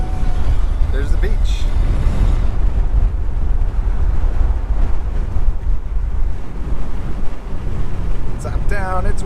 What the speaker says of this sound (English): Top down, it's windy.